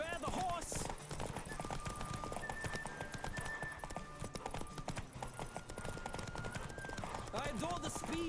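Horse galloping in Witcher 3, a steady rapid clip-clop of hooves running throughout over game music, with a brief whinny and talk underneath.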